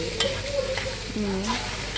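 Squid and pork stir-fried with curry powder in a big pot, a steady loud sizzle with scraping, clattering stirring strokes throughout.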